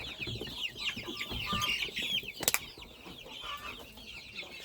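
Young chickens in a coop drink vitamin-treated water, chirping and clucking in a dense overlapping chorus of many birds, with one sharp click or knock near the middle.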